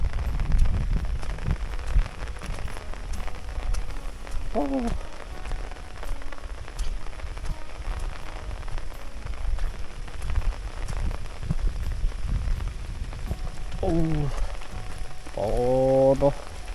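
Steady rainy-season rain patters on a surface in a rural Lao village, a constant wash of drops, with a few short exclamations from a voice near the end.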